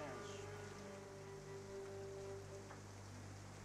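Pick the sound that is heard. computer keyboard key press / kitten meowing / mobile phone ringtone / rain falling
rain falling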